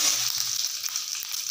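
Urad dal and chana dal frying in hot oil in a pan, a close, steady crackling sizzle with small popping bursts throughout, no voices.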